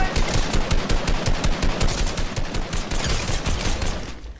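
Rapid bursts of Fortnite gunfire rattle continuously, loud and close, with shots overlapping in a dense automatic stream.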